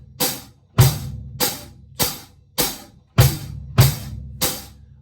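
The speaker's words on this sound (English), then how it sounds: "Bass drum is gonna go something like this." A bass drum plays a rock and roll beat, eight deep thumps in a steady pattern with a quick double hit, close and alone.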